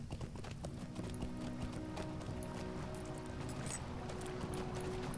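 Mule mount in the Lord of the Rings Online video game, its hooves clip-clopping in a steady, faint rhythm over a flowing-water ambience, with no talk.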